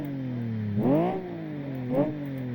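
A modified car engine in the racing game Live for Speed, softened by a silencer, hums at idle and then rises in two smooth revs: a longer one early and a shorter one near the end.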